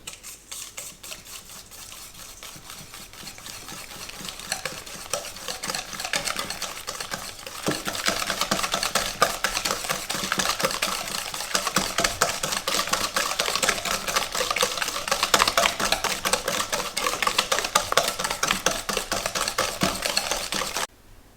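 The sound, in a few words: mixing butter and sugar for a raspberry cake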